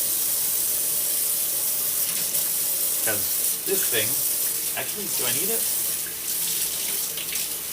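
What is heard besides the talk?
tap water running while washing an immersion blender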